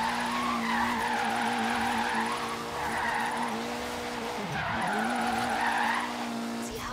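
A car drifting in the racing game Forza Horizon 3, tires squealing in long repeated sweeping wails over a steady engine drone, loud and continuous across the sequence.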